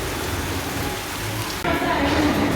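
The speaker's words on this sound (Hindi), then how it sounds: "बहुत ज़ोरदार बारिश हो रही है, और मैं यहाँ पे शॉप में खड़ी हूँ" Heavy rain pours steadily outside a shop, a dense hiss of downpour that grows louder and fuller partway through, with faint indistinct voices beneath.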